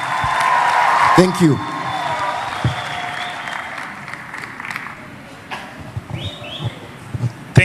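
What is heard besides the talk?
audience applause at graduation ceremony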